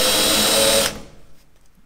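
A power drill drilling out metal trim rivets on a 1997 trailer runs at a loud, steady whine for under a second, then cuts off and spins down into near quiet.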